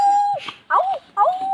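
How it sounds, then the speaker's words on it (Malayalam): A dog lets out a short run of close, wavering howls in three pitched bursts with brief gaps between them, ending on a sustained whine-like tone. "ഏതോ പട്ടിയാ ഗൈസ്"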